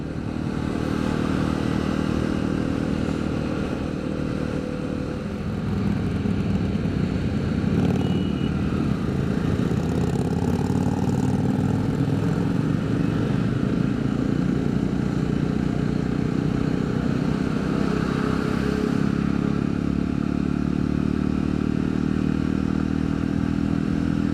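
A Jawa 42 motorcycle riding along a road, its engine droning steadily and loudly throughout with wind and road rumble, and no voices.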